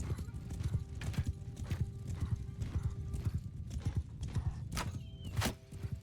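Horses gallop in Mount & Blade 2 Bannerlord, a steady rhythm of hoofbeats pounding close by, with a whinny and a few sharp impacts near the end.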